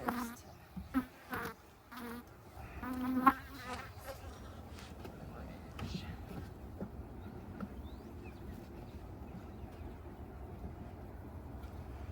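A honey bee swarm settling into a new hive drones in a dense, steady buzz that fills the space, with a few louder bumps and knocks near the start before the hum evens out.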